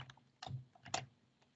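A password being typed on a computer keyboard, with several quick, uneven clusters of key clicks close by and short pauses between them.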